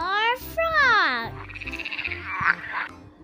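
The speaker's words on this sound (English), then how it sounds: "F for frog." A frog croaks loudly in a children's phonics song, a rising call followed by a rapid pulsing trill close to the listener.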